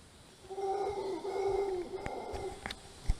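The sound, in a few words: howler monkeys calling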